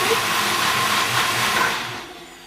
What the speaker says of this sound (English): show you my blender